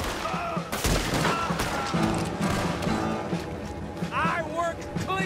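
Rapid gunfire in a Red Dead Redemption 2 town shootout, a loud opening blast followed by dense, overlapping shots and clatter close by, with someone shouting over the firing.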